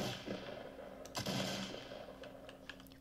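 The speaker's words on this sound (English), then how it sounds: "I hear so much shooting going on" Scattered gunfire in a Roblox Fortnite-style shooter game, quiet and distant-sounding shots popping irregularly with a few sharp cracks over a faint background hum.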